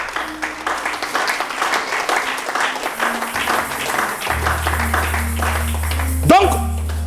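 A church congregation applauds and acclaims the Lord in a steady, moderately loud clapping wash that builds under a preacher's French speech, with organ or keyboard tones sounding beneath.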